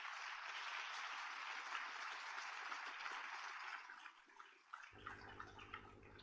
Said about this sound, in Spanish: Nuestro reconocimiento precisamente con un aplauso de todos los asistentes en este auditorio.